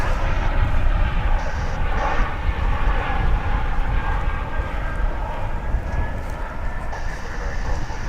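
An American Airlines jet departing for Mexico City, its broad, steady engine roar holding at moderate loudness for the whole stretch with no voices over it.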